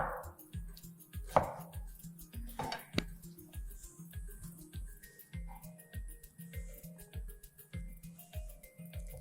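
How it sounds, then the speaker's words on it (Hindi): A knife slices fresh ginger into fine julienne strips for garnish, giving a steady, rapid series of crisp taps on a cutting board, close and regular throughout. "गार्निशिंग के लिए साथ में हम लेंगे अदरक, जूलियन कट अदरक करेंगे।"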